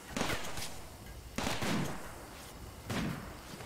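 Automated turrets in the Rimworld video game fire at a mad cassowary in three sharp, separate bursts about a second and a half apart, each trailing off quickly.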